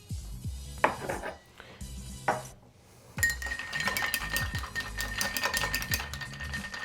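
A Manhattan cocktail with Angostura bitters stirred over ice, with a few clinks, a short pause, then rapid continuous tinkling of ice against glass, close and fairly quiet.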